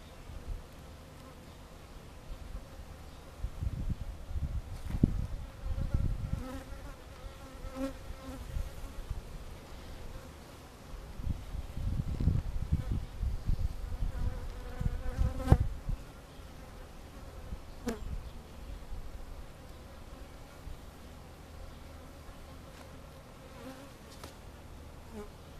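Honey bees buzz around an opened hive during an inspection, a steady droning hum with louder bursts as individual bees fly close past, and clicks and knocks of frames being handled.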